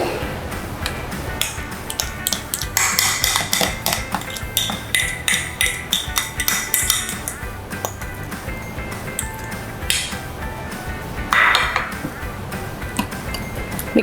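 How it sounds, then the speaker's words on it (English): Mashed ripe bananas being stirred into wet ingredients in a mixing bowl, with a rapid, rhythmic clinking and tapping of a utensil against the bowl that continues steadily up close. "Mix them together."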